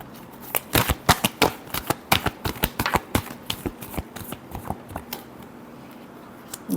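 Tarot cards are shuffled by hand in a quick run of crisp, close snaps and riffles, a couple of dozen sharp bursts in a steady rhythm, with no voice.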